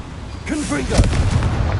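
A shouted spell is followed by a sharp, booming blast from the Confringo blasting curse in a Harry Potter video game, loud and close, with the voice overlapping the explosion.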